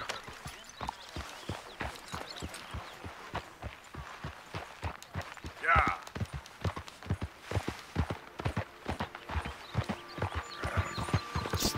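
Horse hooves clip-clop at a steady walking pace in Red Dead Redemption 2, with regular, fairly close strikes continuing throughout. Faint game ambience sits underneath.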